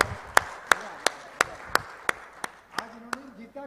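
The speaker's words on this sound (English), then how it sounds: "A big round of applause." An audience at a live-streamed event gives a steady round of applause for a speaker, heard as a string of about ten evenly spaced, fairly loud claps that slow and fade, with a voice starting at the end.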